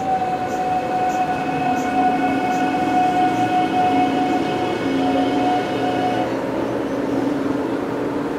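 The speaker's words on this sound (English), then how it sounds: "This train will not be stopping at this station." A Korail train rumbles steadily through a station without stopping, with a sustained metallic whine and hum, loud and continuous throughout.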